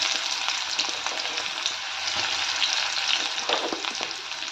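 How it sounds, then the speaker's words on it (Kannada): Onions frying in hot oil for a horse gram stir-fry, a steady dense sizzle that holds for several seconds, close and fairly loud, with faint scraping of a spoon and no talk. "ಇವಾಗ ಎಣ್ಣೆ ಕಾದಿದೆ, ಈರುಳ್ಳಿನ ಹಾಕ್ಕೊಂಡ್ಬಿಡೋಣ."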